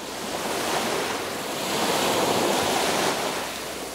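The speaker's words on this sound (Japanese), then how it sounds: "潮騒を立てるのを聞いた" Ocean surf washes in a continuous broadband rush, swelling and easing gently as waves roll and break over a few seconds, with no voices.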